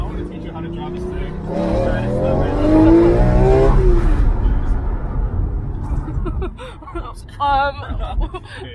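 A rare Lamborghini with a manual gearbox pulls away, its engine revving and rising in pitch under loud, close laughter and chatter before the roar settles into a lower rumble.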